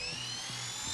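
An RC helicopter's electric motor and rotor whine steadily at close range, a high-pitched continuous hum with a faint low rotor thump underneath.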